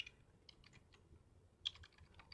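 Typing on a computer keyboard: faint, quick clusters of light key clicks in two short bursts, with no voices.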